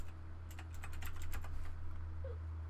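Keys clatter on a computer keyboard in quick, uneven bursts of typing over a steady low hum, close and fairly quiet, with no voices.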